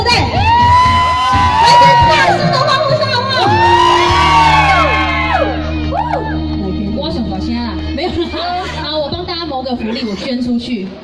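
A crowd at an event in Qijin, many of them children, cheers and whoops loudly in rising bursts, with excited shouting and voices carrying on as the cheer fades.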